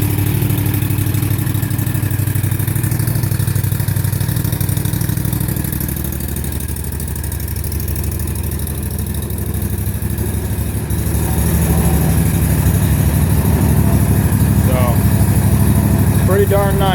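A Kawasaki FR651V engine on a 2017 Bob-Cat CRZ 48-inch zero-turn mower runs at a steady, loud idle for the whole stretch. It dips slightly in the middle, and some talk comes over it.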